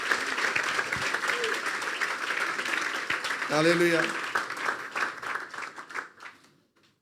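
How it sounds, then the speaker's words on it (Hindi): A church congregation at a sermon bursts into loud, sustained applause that fades out toward the end, with a voice briefly calling out over the clapping. "अपने लिए बजा दें तालियां।"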